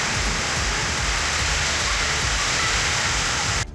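Heavy rain driven by wind pours down as a steady, dense roar of water, loud and continuous, with no voices over it until it cuts off abruptly at the end.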